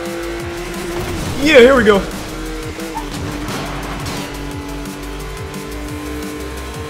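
A Porsche 911 Carrera S in the racing game NFS Most Wanted (2012) boosts on nitrous, its engine roaring with a brief tire squeal while a player shouts excitedly over it.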